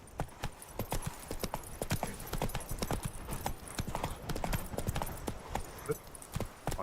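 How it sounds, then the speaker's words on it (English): Horse galloping in The Witcher 3 video game, rapid rhythmic hoofbeats close and steady throughout, with occasional faint game sounds behind. "Run, Roach"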